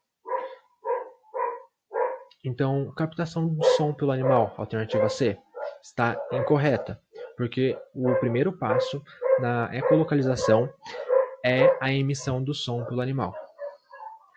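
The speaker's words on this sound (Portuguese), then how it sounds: "Eu peço desculpa pelos meus cachorros latindo" Household dogs bark as someone arrives home: a run of short, sharp barks at the start, then more yaps continuing under a person's steady, close explanatory speech.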